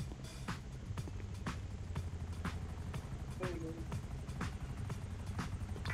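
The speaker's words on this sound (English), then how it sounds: "looks like there's a helicopter above us." A helicopter flies overhead during a police radio exchange, a steady low rotor rumble with rhythmic blade thumps running throughout, moderately loud, with brief radio chatter and clicks over it.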